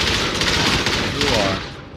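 Gunfire in the Xbox One game Call of Duty Infinite Warfare; a loud, dense burst of rapid automatic shots and booms filling the whole moment, up close and continuous.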